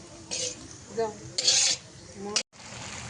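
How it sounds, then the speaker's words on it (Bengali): Beans frying in a pan at a home picnic, heard as rough spatula scrapes and rubbing strokes against the metal, several bursts with short pauses and a quiet background hiss. "আর হচ্ছে বিনস ভাজা হচ্ছে"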